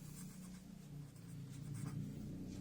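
Marker or chalk scratching across a board during a 10th-grade maths lecture on projection theorems, a quiet close run of continuous strokes with brief pauses, no talk.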